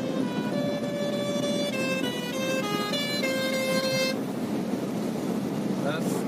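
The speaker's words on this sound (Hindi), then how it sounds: "एक से एक हॉर्न मिलेगा आपको," Vehicle horns honk repeatedly on a national highway in a steady series of overlapping toots from passing traffic, heard over a continuous road and engine rumble.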